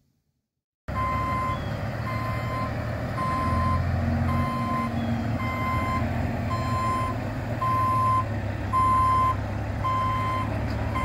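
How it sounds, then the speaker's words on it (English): A triaxle dump truck backs up to deliver gravel, its reversing alarm beeping in a steady, evenly spaced series over the low rumble of the diesel engine. "Getting our gravel delivered here."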